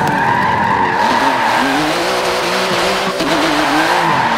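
A car drifting in Forza Motorsport 7 street driving screeches its tires in a continuous loud squeal over a roaring engine, sustained throughout with wavering pitch as it slides backwards through a 180.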